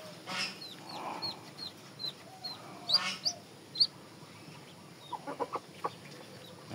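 Hens cluck softly on a farm in Aceh Besar, one hen brooding over eggs with a single chick just hatched; scattered short clucks and faint chirps come and go against a quiet outdoor background, with a small burst of clucking near the end.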